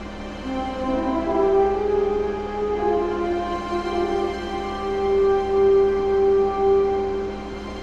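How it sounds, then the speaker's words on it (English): Soft, sustained melodic video game main menu music with smooth held tones and a gentle, ambient feel, playing steadily without any voices. "the main menu music"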